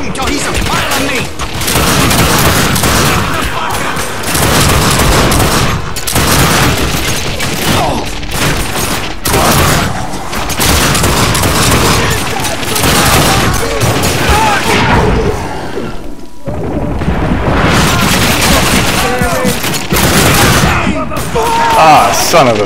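Rapid gunfire from The Darkness II video game, dense bursts of shots and impacts continuing nearly throughout with brief pauses, loud and up front, while a player talks over the action at times.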